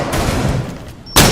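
Gunfire in Ghost Recon Wildlands, with a sustained burst of shots followed by a louder, sharp report near the end; close and fairly loud with no talking.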